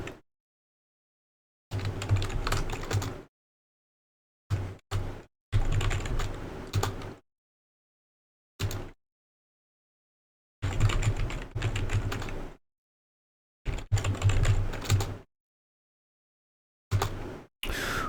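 Someone types on a computer keyboard while configuring an Ubuntu server, in separate bursts of rapid, close clicking. Short silent gaps fall between the bursts, and no one speaks.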